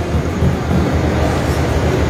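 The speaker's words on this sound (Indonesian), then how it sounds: "Mau ke Jakarta naik kereta api Singasari." Singasari economy train at Purwokerto station, Indonesia, at night: a steady, loud low rumble of the train, close and continuous with no talk.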